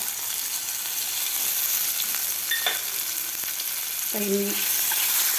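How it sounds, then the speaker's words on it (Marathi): Garlic and green chili paste sizzling as it fries in a pan for mung dal tempering, a steady loud hiss throughout with a few brief clinks of a utensil. "ठेचासुद्धा आपल्याला व्यवस्थित परतून घ्यायचा आहे"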